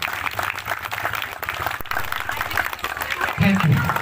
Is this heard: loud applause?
yes